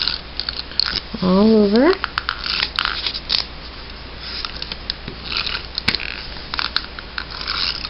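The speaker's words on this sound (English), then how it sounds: "Run my tape runner" A tape runner lays adhesive on card stock while making a handmade card: a brief rising, squeaky whir, followed by soft rubbing and light tapping of the paper as a person talks.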